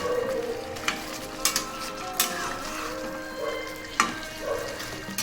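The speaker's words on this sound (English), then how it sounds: "mix the mutton and the tomato nicely" Mutton and tomato fry in a karahi over a high flame, with a steady sizzle under repeated scraping and clinking strokes of a stirring spoon at an uneven pace.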